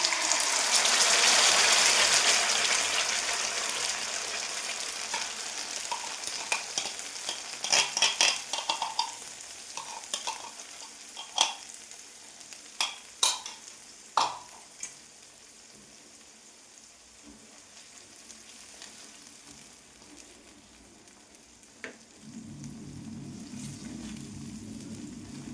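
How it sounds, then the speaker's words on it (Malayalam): Carrot and mango paste cooking in melted butter in a pan, starting with a loud hiss and sizzle that eases off, followed by a run of sharp scraping stirs and clanks of a spoon against the pan, close up. "ഇത് നല്ലോണം ഇളക്കി കൊടുക്കുക, നല്ലോണം വറ്റിച്ചെടുക്കുക."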